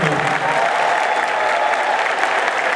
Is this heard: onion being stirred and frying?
no